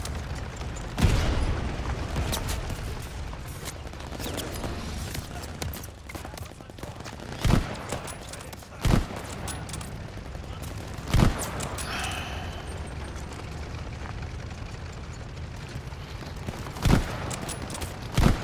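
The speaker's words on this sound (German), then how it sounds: "Noch ein bisschen mit dem Panzer ballern hier." Tank cannon and gunfire in Call of Duty Vanguard, sharp heavy booms at irregular intervals over a constant rumbling battle background, with a voice talking underneath.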